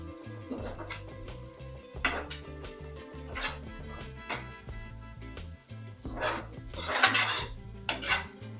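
Curry ingredients with coriander powder and black pepper powder are stirred in a pan, a utensil scraping and knocking against the metal in a steady repeated rhythm, close and clear, with no talking.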